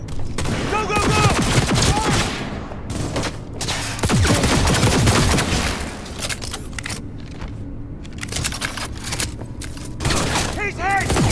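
Rapid gunfire and bursts of shots from the Cyberpunk 2077 video game run loud and continuous through a chaotic firefight, with shouting voices mixed in over the combat noise.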